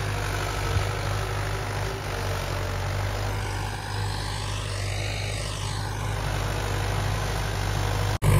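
A Mahindra 595 Turbo tractor with a nine-tine tiller hitched behind runs in a farm field, a steady loud engine drone that holds constant throughout, with a shifting whine in the middle and no talk.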